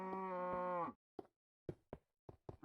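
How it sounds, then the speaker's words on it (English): A video game cow gives one long, clear moo, followed by a series of short, sharp knocks spaced irregularly against near silence. "All the cows."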